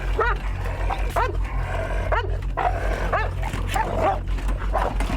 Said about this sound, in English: One dog bites the other, and they break into a frenzy.